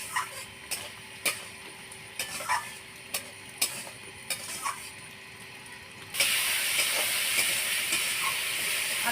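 Potatoes are stirred in hot spiced oil, with a series of soft, regular scraping clinks over a faint hiss, followed by a sudden, steady, louder sizzle for the last few seconds.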